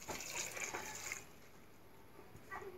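Water pours into a cooking pot in a steady gushing stream for about a second, stops, then splashes briefly again at close range, with no talk.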